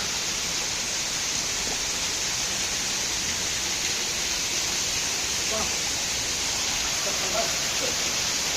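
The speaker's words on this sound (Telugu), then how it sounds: "చూడొచ్చు ఈ యొక్క సెలయేరు యొక్క సవ్వడి" A fast-flowing mountain stream of icy water near a waterfall in Araku, with several channels running side by side, gives a steady, dense rushing roar that stays even and loud throughout.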